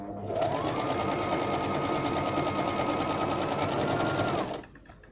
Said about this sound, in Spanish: Ahora puse una costura zigzag.